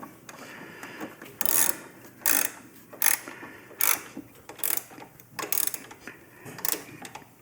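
A ratchet tightens the lower fairing bolts on a 2023.5–2024+ touring motorcycle, giving about nine short, close bursts of clicking in an even rhythm, with quiet pauses in between.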